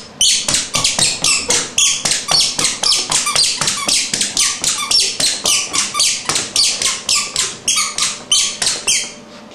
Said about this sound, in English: Jump in your squeaky shoes.